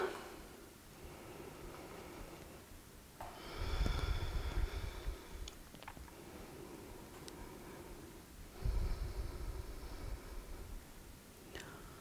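Two slow, free breaths during a yoga session, each a soft, drawn-out rush of air rising and fading, very faint and close in an otherwise quiet room.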